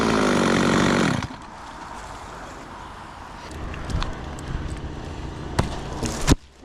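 A chainsaw, run one-handed up in a tree, roars loudly for about a second, then drops away, followed by rustling, thumps and cracks of a falling limb.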